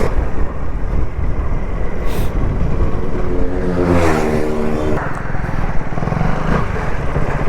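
KTM Duke superbike engine revving close by on a coastal road ride, a loud throaty rising and falling roar with a distinct rev climb midway, voices faintly underneath.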